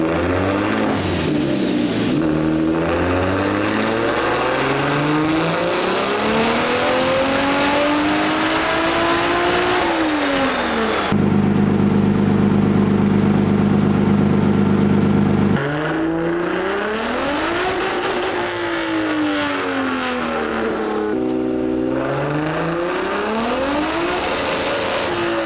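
A 1JZ-swapped Nissan 350Z on a dyno, tuned with VVTi disabled, revs hard in long sweeping pulls, engine pitch climbing and falling repeatedly, with a steady high-rpm hold in the middle; loud and close, no talking.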